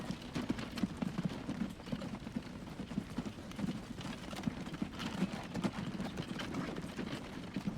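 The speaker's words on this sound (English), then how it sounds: "I do like the fact we're starting off with horses and carts" Horse-drawn carts in the transport game Transport Fever 2 produce a steady, busy patter of hooves clip-clopping over a soft, constant ambient bed. The sound is fairly faint and continuous, and no voices are heard.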